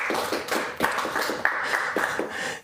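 Audience applause at a startup speaker event: a small crowd claps steadily for a few seconds, a busy patter of hands with a few sharper claps standing out.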